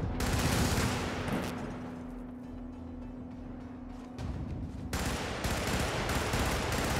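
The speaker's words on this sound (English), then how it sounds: "this is a scatter gun" Rapid, dense bursts from a scatter gun in Helldivers, loud and continuous at first, easing into a lull with a steady tone, then a fresh sharp barrage of shots near the end.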